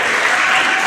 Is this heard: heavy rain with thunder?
no